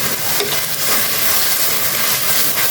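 Ground ginger-garlic spice paste frying with onions in a hot pan for a prawn dopeyaja, a loud, steady, dense sizzle and hiss with faint stirring, no talking.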